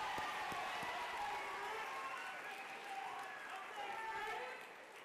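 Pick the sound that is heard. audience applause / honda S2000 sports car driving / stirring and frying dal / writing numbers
audience applause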